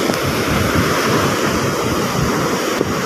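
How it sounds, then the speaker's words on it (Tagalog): Big sea waves during a typhoon crash and roar continuously, loud and close, with heavy wind buffeting the microphone throughout. "Malalaki yung alon."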